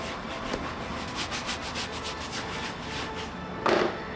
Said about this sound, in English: I'm gonna take a horsehair bristle brush to rub that in,